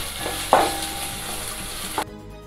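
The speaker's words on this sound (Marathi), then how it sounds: "आणि हा देखील थोडासा मऊ होईपर्यंत, एकदम सॉफ्ट असा होऊ द्यायचा, तोपर्यंत हा परतून घ्यायचा." Sliced onions sauté in a pan for misal over a medium flame, a continuous close sizzle with a sharp stirring clatter early on, then cutting off abruptly near the end.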